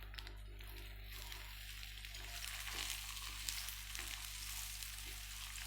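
An aloo paratha fries in a pan after being flipped, a soft but steady crackling sizzle with a few small pops, fairly quiet throughout.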